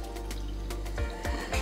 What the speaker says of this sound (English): I like to pour it in here to make it easier to pour